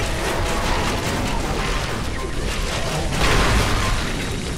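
Fire weapon roaring through zombies in Zombie Driver HD, a steady dense whoosh of burning with low rumbling bursts and crackle, loud and continuous, swelling slightly near the end.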